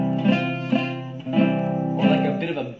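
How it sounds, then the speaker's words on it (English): A guitar chord strummed repeatedly, about four times, with strings buzzing from imperfect fretting, close and moderately loud, each strum sustaining into the next. "or like a bit of a buzzing sound."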